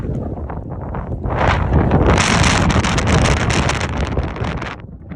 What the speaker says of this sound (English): Wow, so windy.